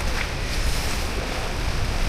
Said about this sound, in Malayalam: നല്ല കാറ്റുണ്ട്